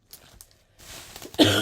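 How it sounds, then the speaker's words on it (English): A person coughs twice, close to the microphone, two soft throat bursts with a short gap, followed by a louder harsh cough at the end. "There's me saying that cough is gone."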